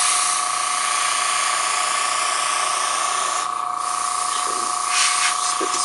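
An airbrush sprays paint onto a fishing lure clamped in place, giving a steady close hiss with a constant high whine behind it and brief small handling sounds near the end, with no talk.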